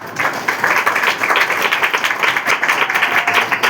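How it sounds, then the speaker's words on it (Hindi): A congregation claps loudly during an evangelical Sunday church service, a dense, rhythmic burst of applause that stays strong throughout. "जोरदार ताली बजाइए।"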